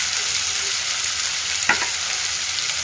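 Cauliflower frying in a pan, a steady close sizzle throughout with one brief stir or scrape partway through; no one speaks.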